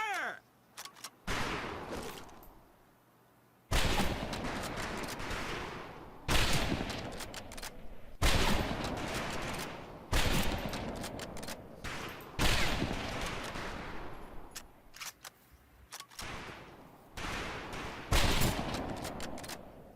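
A rifle volley at a firing range in the World War II shooter Medal of Honor: Pacific Assault, sharp loud shots fired in separate bursts at irregular intervals, with faint voices between them.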